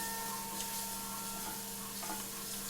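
Food sizzles in a pan during the making of a cream of mushroom soup, a steady close frying hiss with a faint tonal hum underneath and no talking.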